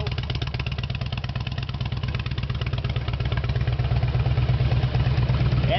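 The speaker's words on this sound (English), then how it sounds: "I'm going to start it and let you hear the Reinhardt pipes" A fuel-injected 2004 Harley-Davidson Road King Classic with Rinehart exhaust idles close by, a loud steady loping rumble with even pulses that grows slightly stronger toward the end.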